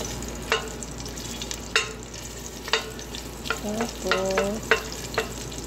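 Garlic frying in a pan for Arabic maqluba, a constant sizzle broken by several sharp scraping stirs of the spatula against the metal at irregular intervals, with a few clinks near the end.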